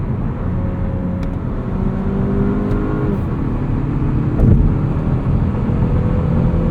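Engine of a 2023 Mazda3 2.5 S Carbon Edition AWD hatchback droning steadily from inside the cabin in sport mode, with a brief rev blip on a downshift partway through over continuous road noise, no talking.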